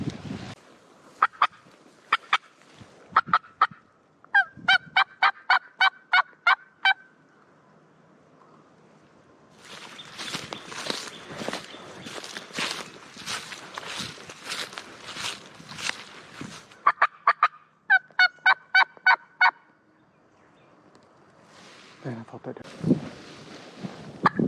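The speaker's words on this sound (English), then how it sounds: "given that he was gobbling like that at that time" Wild turkey gobbles in the spring turkey season: several clipped, rapid bursts ring out loud and near, separated by quieter stretches with rustling, like footsteps through leaves or brush.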